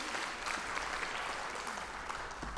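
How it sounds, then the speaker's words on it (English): Faint, distant audience applause for three speakers at a jobs and skills summit in KwaZulu-Natal, a continuous wash of clapping heard from far back in a large hall. "give a big round of applause to our three speakers"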